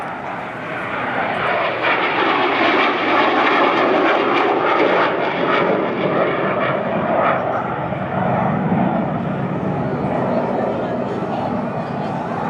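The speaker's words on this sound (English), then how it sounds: "Watch Mark in the mid-radius turn, a 5G mid-radius turn" A-37 Dragonfly jet at an airshow pulling a tight 5G mid-radius turn, a loud sustained engine roar that swells and holds throughout, with a faint announcer voice underneath.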